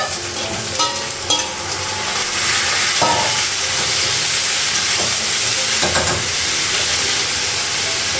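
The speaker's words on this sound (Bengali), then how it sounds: "পেঁয়াজটা একটু ভাজা হয়ে গেছে, ফুলকপিটা লাগিয়েছি।" Cauliflower fries loudly with onion in a pan, giving a dense, close sizzle and steamy hiss. Occasional stirring scrapes punctuate it, and no voices are heard.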